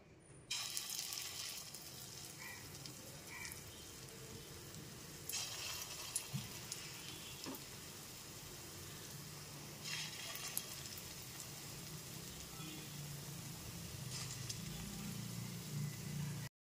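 Pea dal paste fritters fry in hot mustard oil over a medium gas flame, giving a faint, steady sizzle throughout with occasional soft clinks and stirring sounds and no talking.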